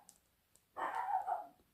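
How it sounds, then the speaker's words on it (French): A pet female dog grumbles and barks indoors, likely at someone passing on a path behind the house, in one sustained, moderately loud outburst after a near-silent pause. "vous entendez ma chienne qui rouspète"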